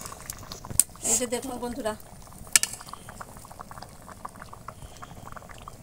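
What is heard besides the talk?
chicken khichuri with rice and lentils boiling in pot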